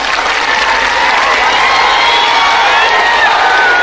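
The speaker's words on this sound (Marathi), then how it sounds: "जोरदार टाळ्या वाजवून" A large crowd at a Dussehra rally at Narayangad roars and applauds loudly and continuously, with broadband cheering and whistles sustained at steady volume throughout.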